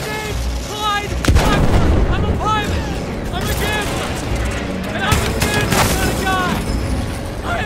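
Gunfire and explosions in the Battlefield 1 game on PS5, with heavy booms and bursts of shooting rolling over a dense battlefield din, loud and continuous, while a player talks over it.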